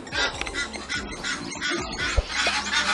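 A mother goose guarding her eggs honks and squawks harshly in agitated bursts while attacking a baboon, mixed with flapping and scuffling noises, loud and close.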